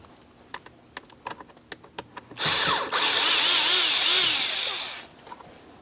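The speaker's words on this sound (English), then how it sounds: "Let's go ahead and remove the pair. So we'll start down here at the lower screw." A small power driver whirs steadily for about two and a half seconds, backing tiny T8 Torx screws out of a combination switch on a Ford Transit 250 van, after a run of light clicks and taps.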